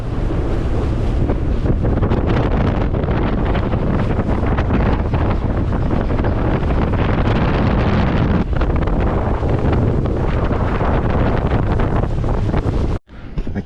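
Strong wind batters the microphone on a boat out on Moreton Bay, with a loud continuous roar mixed with water and surf noise throughout, cutting off abruptly near the end.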